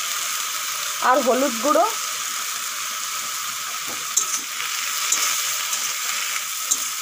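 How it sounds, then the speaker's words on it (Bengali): Shrimp shells frying in hot oil give a steady, close sizzle with a bright crackle throughout, while a voice speaks briefly near the start over the frying. "এখন চিংড়ি মাছের খোসাগুলো ভেজে নেব"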